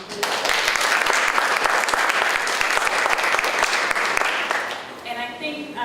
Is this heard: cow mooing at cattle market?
no